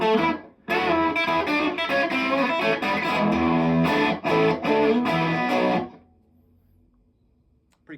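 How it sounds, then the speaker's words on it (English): A 1970s Japanese Suntech electric guitar with single-coil pickups, played through a cranked Blues Junior amp, rings out in loud distorted strummed chords for about six seconds, then cuts to near silence. "So that's cranked right now in the Blues Junior."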